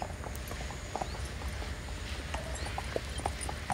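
Hooves of several horses clip-clop on a morning group trail ride of about eight kilometres. The steady, uneven rhythm is moderately close and sits under a constant outdoor background hiss, with no talk.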